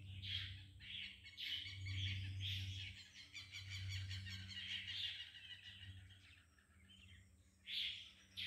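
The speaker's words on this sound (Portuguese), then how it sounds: "As gaivotas." Gulls call repeatedly in bursts of high cries at dawn over the Rio Turvo in Cardoso, São Paulo, fairly distant, over a low steady rumble in the background.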